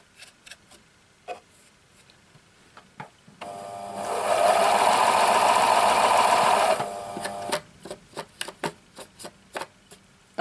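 A Pfaff classic style quilt sewing machine runs steadily for about three seconds after being cleaned, as a smooth whirring hum set between scattered clicks and handling taps.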